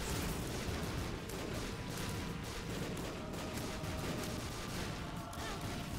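Dense, continuous explosions in the video game The Binding of Isaac Repentance form a loud, crackling barrage of overlapping blasts with no pause.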